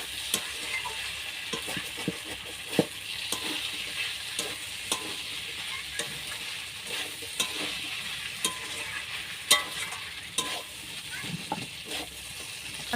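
Potatoes fry with poppy seed paste in a pan, a continuous close sizzle punctuated by repeated sharp scrapes and taps of a spatula stirring, with no talk.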